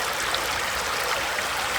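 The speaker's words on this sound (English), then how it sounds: "You can't go wrong with a babbling brook." A babbling brook flows steadily outdoors, its water rushing and burbling as a constant, fairly loud wash with no gaps and no voices.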